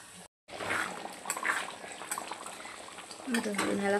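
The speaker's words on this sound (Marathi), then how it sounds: "भाजीला आता आपण छान उकळून घेऊया." Mutton Afghani curry bubbles in a pot with soft, irregular popping and gurgling, broken by a short silent gap near the start, while a voice talks over it.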